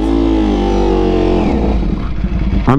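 A 2023 Ducati Panigale V4R engine revs loud and close, holding a steady high-pitched whine before dropping into rougher, uneven bursts and then a sharp final blip.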